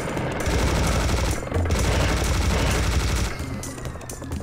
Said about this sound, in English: Say hello to my minigun!